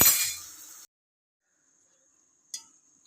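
A lid set on a cooking pan of fish poriyal, a single sharp metallic clink after a short burst of sizzling, close and otherwise near-silent.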